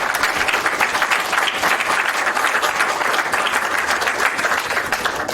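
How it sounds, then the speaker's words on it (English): Sustained audience applause fills the room, dense and steady clapping from a large crowd held at an even level for several seconds, with no talk over it. "I would like to ask everyone to give a special applause to Bernd."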